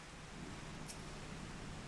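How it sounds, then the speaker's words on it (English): Rain falls in the Final Fantasy XIV game world, a steady, even wash of hissing noise with a low rumble beneath, faint and continuous with no voices. "It's raining here, man."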